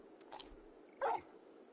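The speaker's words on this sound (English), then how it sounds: "You're just a big puppy" A dog in the video game Final Fantasy XVI gives a quick soft yip, then a single louder bark, both short and fairly quiet against a faint background.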